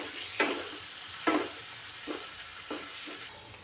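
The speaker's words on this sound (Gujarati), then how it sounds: "હવે આપણે એમાં ટમેટાં એડ કરી દઈશું, અને આપણે એને પણ 2-3 મિનિટ માટે" Tomatoes sautéing in a pan with browned onion for a Gujarati green turmeric curry, a quiet steady sizzle with four or five evenly spaced stirring scrapes, close up, no speech.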